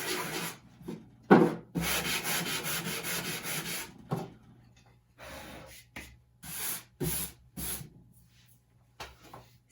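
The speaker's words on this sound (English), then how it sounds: "I'm going to sand again" Sandpaper scrapes against painted wood in rough bursts, a long stretch of rubbing followed by shorter strokes with pauses between them.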